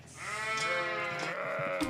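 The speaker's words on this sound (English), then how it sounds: "It's home to Leaning Oak Dairy, which is home to lots of goats." Goats bleat at a dairy farm in a country town northwest of Sydney, a loud, close, sustained wavering bleat with overlapping animal calls and no talk.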